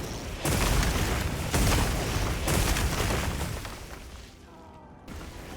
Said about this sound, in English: if I shoot these guys, it is going to overcharge them and explode in a chain reaction